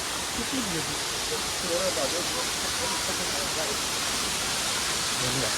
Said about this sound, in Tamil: இப்போ ஃபால்ஸ் வந்தாச்சு. வாவ் பயங்கரமாக இருக்கு.